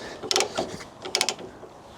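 A ratchet strap is tightened on a low loader trailer, giving two short bursts of sharp, close metallic clicking about a second apart.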